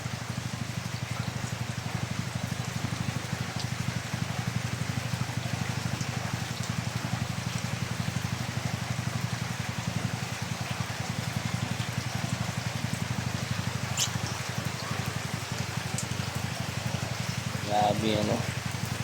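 Heavy rain pours down steadily during flooding in Mindanao, a dense constant hiss and patter on surfaces with a low rumble beneath, while a person talks intermittently over it.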